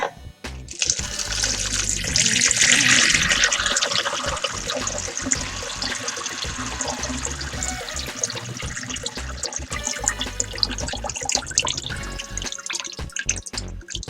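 Wine pours and splashes steadily into a pot roast for several seconds, a continuous watery rush that gradually thins into trickles and drips.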